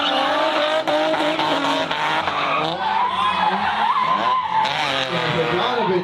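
A drift car in a drifting competition on the plains skids and spins out, loud wailing tire squeal and revving engine sweeping up and down, with a commentator talking over it.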